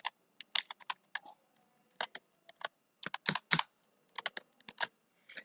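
Keys on a computer keyboard are tapped in short irregular bursts as a password is entered, quiet and close with brief pauses between clusters of clicks.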